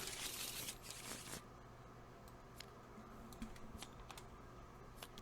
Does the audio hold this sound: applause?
no